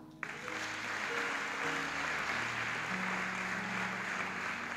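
A church congregation applauding continuously in a large room, a dense, even wash of clapping that carries from start to finish, with faint low music or organ tones underneath.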